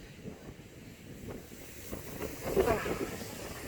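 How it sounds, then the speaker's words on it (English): Gusty outdoor wind buffets the microphone on a sunny day, a rough rumbling rush that swells and eases in uneven surges, growing stronger toward the end. "Yeah, it's very windy."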